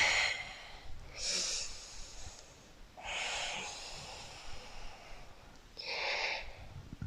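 Slow, audible breaths during a yoga stretch for the splits: three long, airy inhales and exhales close to the microphone, spaced a couple of seconds apart, with no talking.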